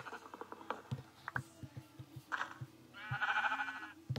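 Sheep in Minecraft bleat in a few short, nasal calls, the longest near the end, over soft, rhythmic footstep-like patter in the blocky game world.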